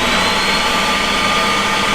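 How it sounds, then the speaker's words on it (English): Shop vacuum cleaner running steadily with a loud, constant whooshing motor roar that fills the whole clip without pause. "See if the vacuum works."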